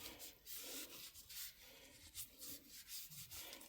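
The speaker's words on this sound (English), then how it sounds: "If I put Mop and Glow on a rag, and then I take that and I rub it on this cap," A rag loaded with Mop and Glow is rubbed back and forth on a magneto cap from an International TD-6 or Farmall MD H4 magneto, making soft, faint, rhythmic swishing strokes up close.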